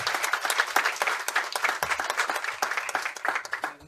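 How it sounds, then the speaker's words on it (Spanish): Steady audience applause from a seated crowd at a social work panel discussion, many hands clapping densely and evenly for several seconds before thinning out at the end. "Un aplauso para el maestro."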